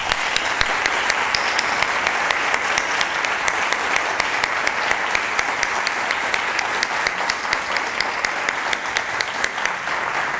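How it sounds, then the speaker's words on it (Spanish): An audience greets the Puerto Rico Symphony Orchestra at an arts master class with sustained, dense applause, loud and even for the full stretch, with a few sharper claps standing out. "para quienes pido un gran aplauso"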